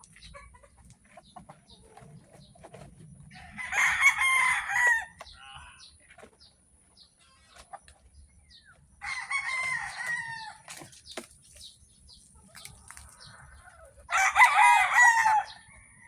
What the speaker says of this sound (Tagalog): papaligo tayo ng mga stag, mga bagong cording na stag